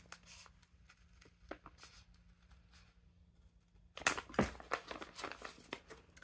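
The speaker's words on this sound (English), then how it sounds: "I'm going to cut along that line." Scissors snip through felt along a marked line, soft crisp cuts coming in irregular bursts, quiet at first and then denser and louder toward the end, with no voices.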